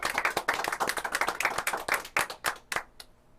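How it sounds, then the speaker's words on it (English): Audience applause and clapping at an evening charity fundraiser gala, a steady dense patter of many hands lasting a few seconds before thinning out into a few last claps. "please give yourself a huge round of applause for your support of RCS."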